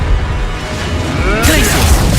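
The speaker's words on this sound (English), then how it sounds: "Confringo!" A Confringo fire spell cast during combat in Hogwarts Legacy bursts out loud and close, a sudden bright crackling blast over a steady roar of battle noise and game music.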